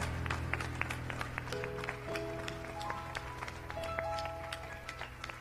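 A church congregation applauds during an afternoon Spanish-language service, scattered sharp claps ringing over a sustained organ or keyboard chord and a low hum, moderately distant and fairly quiet.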